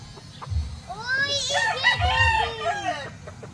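A pure Gilmore Hatch gamefowl rooster from a game farm lets out a loud crow close by, one drawn-out call with a few rising and falling notes, over low rustling and faint background noise.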